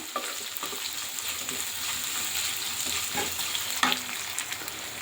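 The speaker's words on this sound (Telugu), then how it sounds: "ఇప్పుడు ఇవన్నీ బాగా వేపుకుందాము" Onions, curry leaves and green chillies frying in a pan, giving a steady bright sizzle and crackle with occasional soft stirring knocks, fairly quiet and close, with no voices.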